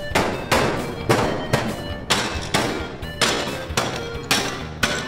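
Toy hammer-like tool pounding at an indoor playground, with a regular series of loud hollow thuds, about two per second, each ringing out briefly.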